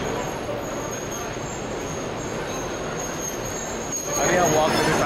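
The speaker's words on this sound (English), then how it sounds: "Look at the speed of this train." The Red Arrow overnight train between Moscow and Saint Petersburg rolls along a station platform in a steady, rushing rumble of wheels and carriages, growing slightly louder near the end, with muffled voices mixed into the noise.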